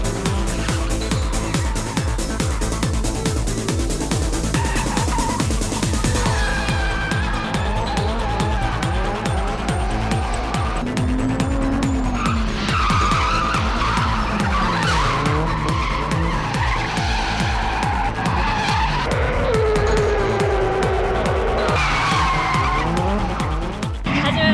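Cars drift on an Osaka street at night, engines revving hard and tires squealing and skidding in long, repeated screeches, loud and close, with faint voices in the background.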